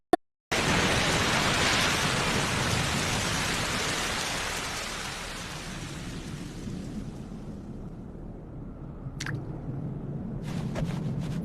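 Steady rain falls alone, a dense continuous hiss that eases slightly midway, with a few faint clicks near the end.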